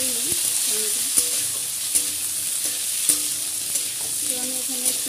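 Chopped raw green tomatoes fry in a pan, giving a continuous bright sizzle with soft stirring scrapes and small clicks throughout.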